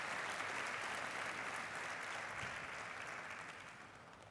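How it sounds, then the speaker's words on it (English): Graduation ceremony audience applauding after a poem, a steady wash of many hands clapping in a large hall, fairly distant and slowly fading toward the end. "Let's give them a round of applause for that poem."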